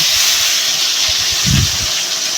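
Steady hot-oil hiss of fenugreek seeds sizzling, with a brief louder crackle midway through, continuous and close.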